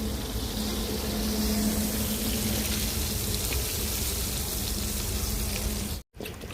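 Fish frying in a pan gives off a steady, dense hiss and sizzle close by that keeps going without a break, with a brief dropout near the end.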